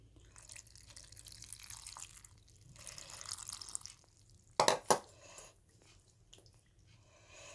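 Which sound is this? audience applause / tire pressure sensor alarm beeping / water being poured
water being poured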